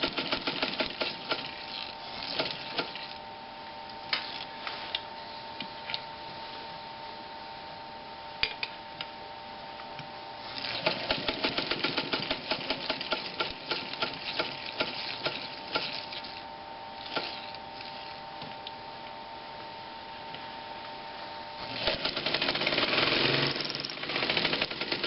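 A Read's sailmaker sewing machine running at full speed, a rapid rattling, clattering mechanical chatter with a steady hum, surging louder in bursts and speeding up toward the end, close and without talk.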